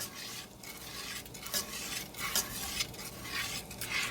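A utensil scrapes and swirls around inside a pot in steady repeated strokes while heating water for pasta, with a hissing, bubbling background and no talking.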